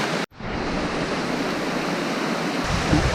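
A waterfall pouring steadily, a dense roaring rush of falling water heard close and loud throughout, with a momentary dropout near the start.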